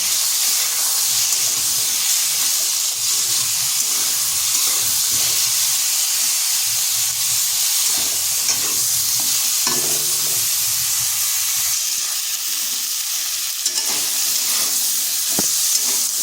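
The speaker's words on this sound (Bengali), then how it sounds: "এরপর সিমটাকে নেড়ে চেড়ে হালকা ভেজে নিচ্ছি।" Flat beans with salt and turmeric being stirred and lightly fried in a pan, a loud, steady hissing sizzle that fills the whole stretch, with occasional soft stirring knocks underneath, close by.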